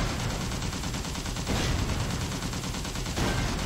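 Continuous gunfire in the video game Toy Soldiers: Cold War, dense overlapping bursts of rapid shots and blasts filling the whole stretch at steady loudness, with no talking.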